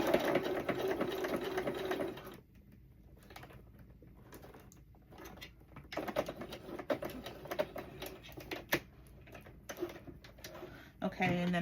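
Sewing machine stitching a second row close to finished fabric edges, a busy mechanical run that stops briefly, then restarts in bursts with talk over it.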